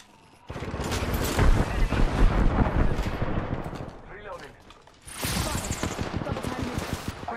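Frag grenade blast and gunfire in the video game Apex Legends: a loud, dense burst of shots and explosive roar for several seconds, a brief dip, then another loud sustained volley of fire.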